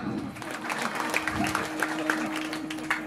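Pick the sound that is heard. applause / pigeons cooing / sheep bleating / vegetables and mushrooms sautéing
applause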